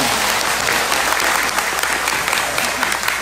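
Dense, steady clapping rises from an audience at a spoken gathering, a loud, continuous wash of hands filling the whole few seconds.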